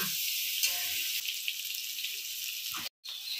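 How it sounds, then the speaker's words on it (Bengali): Cubes of elephant foot yam and potato frying in hot oil give a steady hiss with brief clinks, close and fairly loud, cutting out abruptly near the end; no talking. "ওই তেলে দিয়ে আমি ওল আর আলুটাকে ভেজে নিচ্ছি।"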